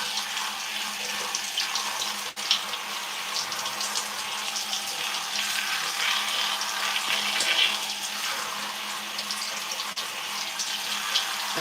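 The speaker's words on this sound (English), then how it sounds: "then I go in and separate my hair in vertical sections and rinse." Water runs steadily from a shower or tap at a direct pressure setting while hair is rinsed section by section, a continuous close hiss and splash with no talking.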